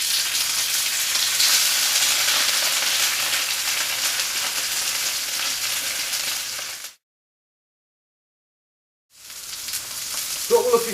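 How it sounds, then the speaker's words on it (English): A hake fillet laid skin side down in a hot pan sizzles with a bright, loud hiss that cuts out abruptly for a couple of seconds, then returns with a few louder pops near the end. "all we need to do with the piece of hake is put it into the pan skin side down"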